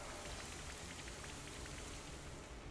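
Rain summoned by the Rain Dance move in Pokémon Shield pours down as a dense, steady downpour that hisses on a surface, constant and even throughout, with no speech.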